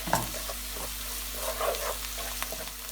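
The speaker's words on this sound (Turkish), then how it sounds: "kavrulan soğanlarımızın içerisine bir yemek kaşığı domates salçası, bir tatlı kaşığı da biber salçası ilave edip salçamızın kokusu çıkana kadar kavuralım" Onions frying in a pan with tomato paste and pepper paste, a steady, close sizzle with light stirring scrapes throughout and no voices.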